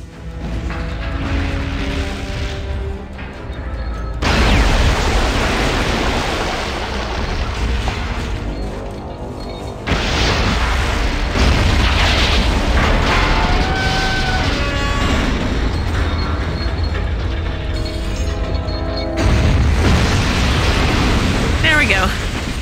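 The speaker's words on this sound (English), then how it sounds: "There's a proper explosion." A self-destructing base explodes in the Fallout 1 video game: loud, dense rumbling blasts in several heavy waves that surge, settle and surge again across the stretch.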